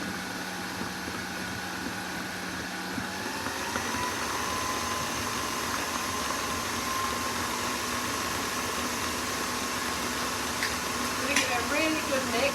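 An electric mixer whirs steadily at close range, beating butter and water into cupcake icing in a home kitchen, a continuous buzzing drone with a slight pitch shift partway through.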